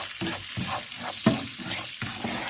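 Semolina roasting in ghee in a pan for suji halwa, with a steady close sizzle broken by regular stirring scrapes about every half second and one sharper knock midway.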